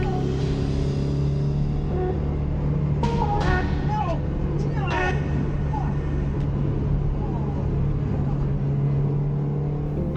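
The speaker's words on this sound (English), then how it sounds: "This was the only time the fuel cut had ever happened in the last corner" Toyota race car on track during a TRD Series race at Chuckwalla, going through the final corner with its engine cutting fuel: a loud, steady engine drone with wavering pitch shifts through the middle and continuous road and wind rumble.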